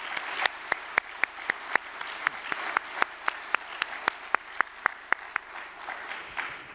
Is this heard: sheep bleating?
no